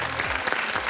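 Studio audience on a French game show breaking into steady applause, a dense wash of clapping hands filling the short moment at full volume, with no voices over it.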